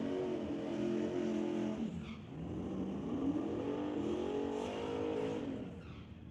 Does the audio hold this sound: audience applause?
no